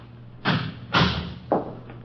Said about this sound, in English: Close the door there.